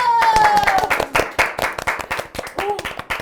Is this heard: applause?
yes